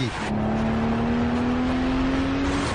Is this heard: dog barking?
no